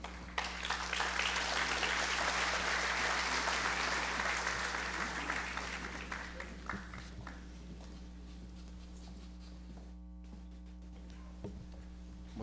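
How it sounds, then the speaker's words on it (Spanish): An audience at a justice and disciplinary-procedures panel of the SERVIR congress applauds the panelists, with a dense burst of clapping that thins after several seconds into scattered claps over a steady room hum. "para quienes pido un gran aplauso"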